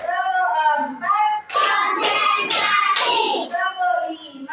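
Children in a classroom clap their hands in a counting clapping game, with a burst of claps mixed into loud group chanting by young voices.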